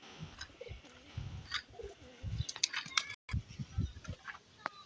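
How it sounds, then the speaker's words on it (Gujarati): Soft low pigeon coos repeat in short bursts at close range, with light rustling and clicking in a quiet room. "આ એક નવું કબૂતર લાવ્યા છે અમે"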